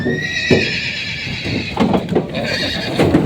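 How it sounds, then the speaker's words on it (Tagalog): Horses whinny at a Lucena livestock auction market in Quezon, with several neighs and the clip-clop of hooves rising over a steady background hum of the busy market. "Yung mga kabayo dito dumating."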